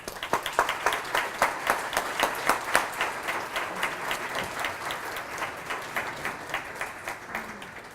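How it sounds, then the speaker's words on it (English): Audience applause at a LightHouse gathering in Holyoke, a steady patter of many hands clapping throughout, moderately loud and close, with individual claps standing out and no talk over it. "Give a round of applause"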